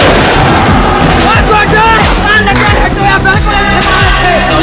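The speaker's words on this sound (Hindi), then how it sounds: "अभी धमाका हो गया अभी" A loud blast booms out amid chaotic rumbling and crackling from what sounds like an airport runway attack, with continuous heavy noise and voices shouting throughout.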